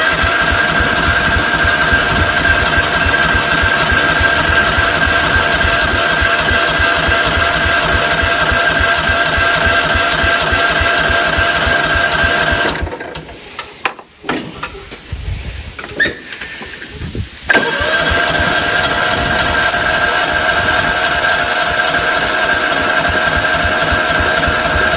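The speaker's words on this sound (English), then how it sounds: "choke is on, throttle, brake. Hopefully it fires. It might take a minute to prime the fuel." A 1994 Cub Cadet HDS2135 lawn tractor engine, just restarted after ten years, runs loud and steady with a droning hum, cuts out briefly into near silence, then catches and keeps running at a steady idle.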